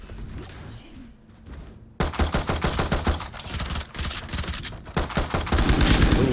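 Rapid, loud pistol shots crack out repeatedly in a Valorant match, starting abruptly after a quieter stretch and continuing as dense back-to-back volleys with no talking.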